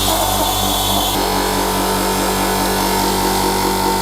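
A cheap 24-liter air compressor runs steadily during its break-in period, a loud, constant motor drone with a regular pulsing chug throughout and no pauses.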